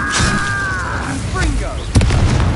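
Fire spell blasts in the Hogwarts Legacy video game, a roaring whoosh with sharp bursts and a loud impact near the end, set against continuous game effects and tonal sweeps.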